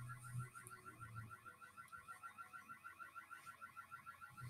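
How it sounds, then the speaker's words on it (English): A repeating electronic alarm in a Roblox game set in Berkley County, cycling steadily in the background without pause, moderately loud under a low hum. "Gotta love that sound in the background with that alarm."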